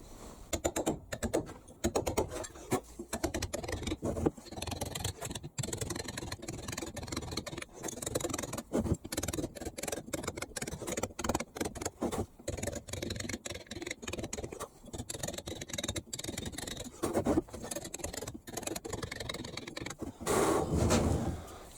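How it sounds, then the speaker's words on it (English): A hand chisel scrapes and taps along the edge of a carved number 5 in a stone house sign, making quiet, rapid irregular ticking and scratching strokes that run continuously and close at hand. "I'm using the wall of the chisel, wall of the stone, running the chisel down it"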